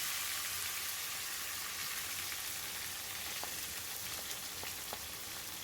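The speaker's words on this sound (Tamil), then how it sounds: "கருவேப்பிலையும் சேர்த்து நல்லா வதக்கி விட்டுக்கிறேன்" Crushed garlic and curry leaves sauté in hot oil for a kara kuzhambu, giving a continuous soft sizzle dotted with a few sharp pops and crackles, with no voices.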